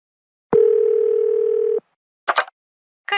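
A telephone dial tone sounds as a single steady, loud hum lasting just over a second in otherwise near silence, followed by two brief bursts of speech.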